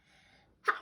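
A single sharp sneeze bursts out after a brief stretch of faint background murmur, close and loud.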